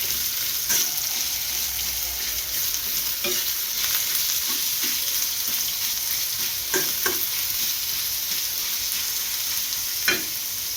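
Two chopped onions fry with a steady hiss and sizzle in a pan, stirred by a utensil that gives occasional sharp clicks and scrapes, close and without talk.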